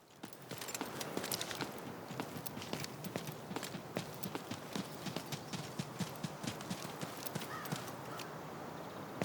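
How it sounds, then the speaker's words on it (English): Footsteps in the video game Delta Force: a quick, regular run of crisp, distinct steps that repeat steadily over a low ambient background. "With the EQ enabled, footsteps are louder, clearer, and easier to pinpoint than before."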